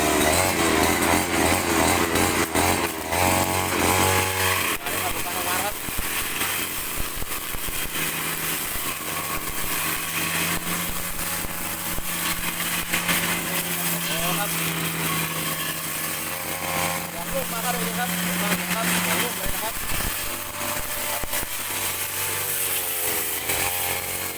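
A shoulder-carried brush cutter with a newly replaced drive shaft runs its small two-stroke engine continuously and loudly nearby, a harsh buzzing whine that holds steady with slight rises and dips in revs.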